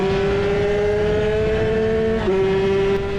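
A Kawasaki KX65 supermoto motorcycle engine holds a loud, high buzzing drone near the listener, with a brief dip and then a rise in pitch as it keeps accelerating on a racetrack.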